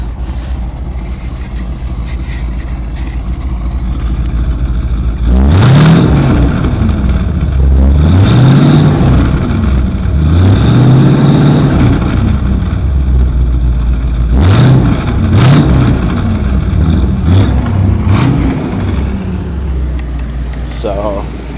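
A 1975 GMC motorhome engine fitted with new headers idles with a low, steady rumble, then revs repeatedly in several rising-and-falling surges before settling back toward idle, loud and close.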